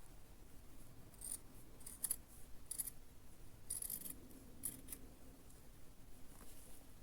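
Scissors snip through dress fabric in a handful of quiet, crisp cuts, irregularly spaced over a faint background hiss.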